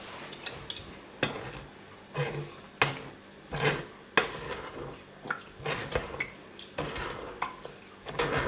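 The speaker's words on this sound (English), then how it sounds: "Just give that a quick stir to help it through, because obviously the sieve gets a little bit clogged." Spoon stirring blackberry and wine juice through a clogged sieve, a series of soft scraping and clinking strokes against metal at an irregular pace, close and moderately quiet, without speech.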